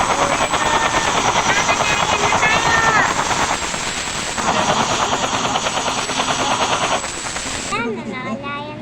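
Helicopter rotor drone in the Roblox-style game Barry Prison, loud and steady for most of the clip with gunfire-like bursts mixed in, fading near the end as voices talk over it.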